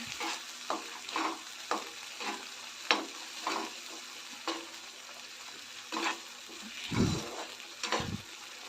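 Vegetable kurma masala sautéed in oil in a pan, a quiet sizzle under repeated rhythmic spatula scrapes and knocks, a dozen or so strokes, close by with no speech.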